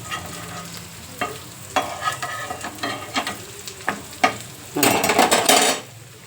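Bread slices roast in oil in a pan, giving a close sizzle and frying crackle with scraping stirs and utensil clicks, then a louder burst of sizzling near the end.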